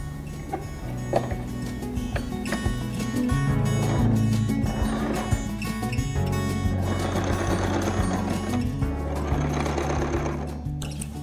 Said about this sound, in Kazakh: Енді екінші бетіне тігеміз.